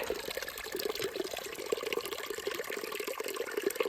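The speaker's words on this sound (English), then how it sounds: "Check out the water running out of that rock." Water trickles and splashes steadily out of a rock beside a mountain trail, a continuous bubbling flow from a close source, with no voices.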